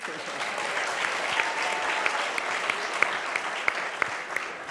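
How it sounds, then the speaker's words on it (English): An audience at a council meeting applauds in a hall, a dense, steady spread of clapping that carries on at even strength through the whole clip. "You can applaud him more, he's the only one present."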